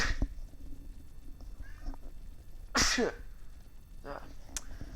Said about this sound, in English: so I sneeze a lot when I'm in my apartment